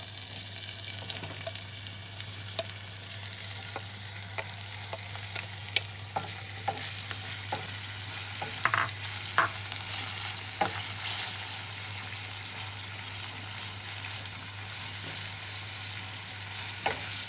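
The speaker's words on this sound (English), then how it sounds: "Now that it started to heat up, we're just gonna add our onion and saute it." Onion sautéing in hot oil in a pan, with a steady sizzle and scattered clicks and scrapes of stirring throughout, no voices.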